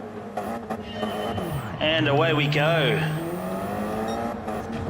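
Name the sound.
race car engines revving at a racing game start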